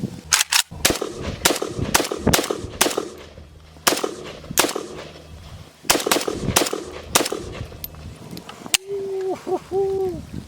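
An AK-47 style rifle fires through its magazines in sharp, loud bursts and single shots separated by short pauses, with a brief tonal hoot near the end.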